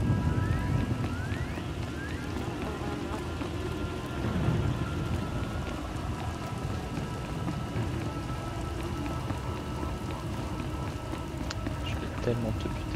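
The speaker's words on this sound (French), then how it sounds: "C'est difficile de les suivre dans la tempête. La pluie efface leurs traces." Steady rain pours down in a storm in the video game Star Wars: The Old Republic, a dense continuous patter with low rumbling underneath and faint voices now and then.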